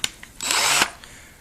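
An impact driver shooting a 3-inch drywall screw into a 2x4, a short close burst of buzzing and hammering lasting under half a second, with a couple of small clicks before and after.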